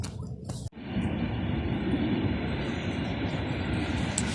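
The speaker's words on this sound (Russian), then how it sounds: "Тут уже, видите, поезд, тут вокзал." A train rolling past close by near a station in Poland, a loud, steady rumble and rush of wheels that starts abruptly after a brief quieter moment and fills the rest of the clip.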